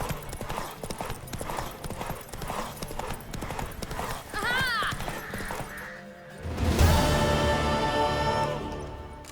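Horse hooves beat in a rapid galloping clip-clop in The Witcher 3, close and rhythmic, broken by a neigh and followed by a crowd cheering, with voices talking throughout.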